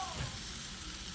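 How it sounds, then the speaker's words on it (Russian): Chicken thigh steaks with crispy skin sizzle in a frying pan, a brief, steady hiss of hot oil with no talking. "Ну, закончим жарить наши стейки"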